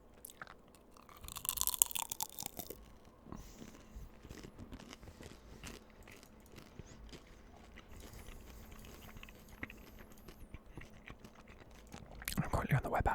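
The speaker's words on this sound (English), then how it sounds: "I didn't think it was very crunchy when I first bit into it" Crunchy Chinese food is chewed and bitten close to the mic in an ASMR-style eating session, with repeated soft crunches and mouth sounds, louder bursts at the start and end.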